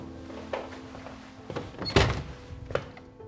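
Knocks and thumps at a house's front door, several muffled irregular bangs, the loudest near the middle, against a quiet indoor background with no speech.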